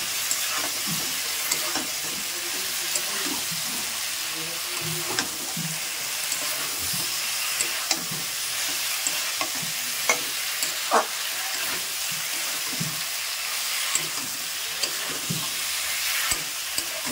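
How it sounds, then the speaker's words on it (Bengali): Broccoli, potatoes and paneer stir-fry with spices in a hot pan, giving a loud, steady sizzle close by. Occasional scrapes and knocks of stirring break through at irregular intervals. "এইভাবে একটু নাড়িয়ে চাড়িয়ে কষিয়ে নিলে কি হবে, ব্রোকলিটার মধ্যে মশলাটা ভালো করে ঢুকে যাবে"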